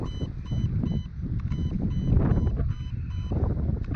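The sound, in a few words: Lancer Tactical Interceptor airsoft gun beeping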